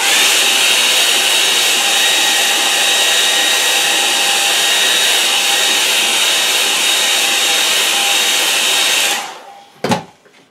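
A hair dryer drying watercolor paint blows with a steady, loud whooshing roar for about nine seconds, then switches off and winds down, followed by a brief knock.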